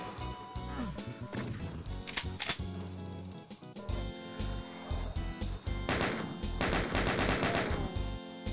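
Gunfire in a first-person shooter video game, bursts of rapid shots and sharp blasts with clanking game effects, loud and close throughout.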